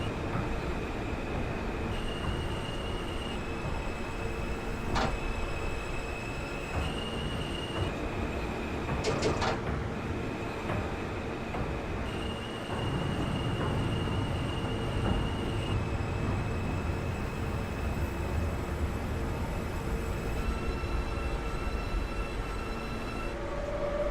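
An R160 subway train in the OpenBVE simulator game rolling along on a J local, with a steady rail rumble, faint squealing wheels and brief tonal chimes and signals over about twenty-four seconds.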